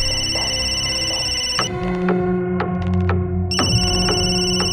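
Electronic telephone ringing in repeated bursts, loud and close, with a brief pause between rings and no talk.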